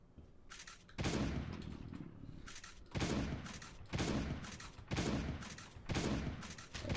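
Shotgun blasts in the survival game Last Day on Earth come as about six heavy booming shots, roughly one per second, each loud and close with a long rumbling tail.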